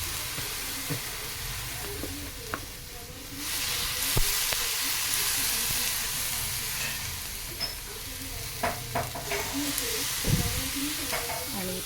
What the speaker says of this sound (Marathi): आता इथे मिरच्या भाजते